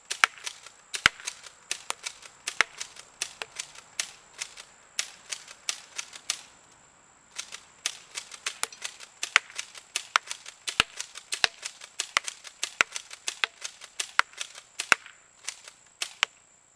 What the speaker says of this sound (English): I'm going to go ahead and back up and take some shots now.